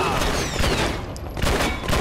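Gunfire in the Wii shooter Red Steel, a loud close burst of repeated shots over game effects, with a voice talking through it.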